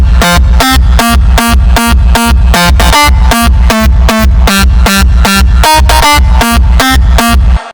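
Crunchy PVC-style kick drum samples play a fast melody, a loud, punchy run of evenly spaced pitched hits that repeat without pause for several seconds.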